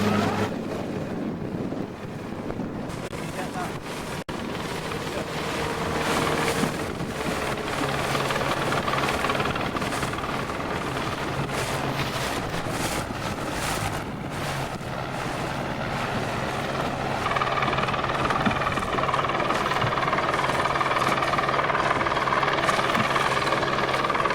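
A helicopter drones steadily overhead over an old-growth forest amid heavy wind buffeting and engine rumble, loud and continuous throughout.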